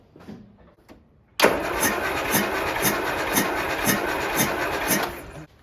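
A Land Rover Series 3 engine cranks for a compression test on cylinder four, with a sudden start of a loud, even starter churn that pulses regularly for about four seconds and then cuts off.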